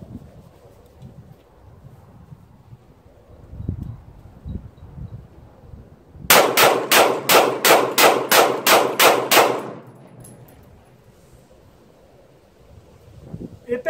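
A CZ 75B pistol fires a rapid string of about ten evenly spaced sharp, loud shots at steel targets outdoors, preceded and followed by quiet wind and rustling.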